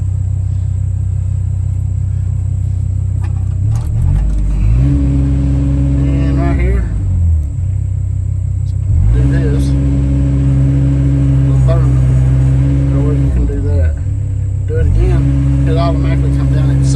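A new Kato HD308US-7 excavator's diesel engine rumbles steadily up close, its deep, droning tone dropping and settling as it idles down, with a voice talking over it.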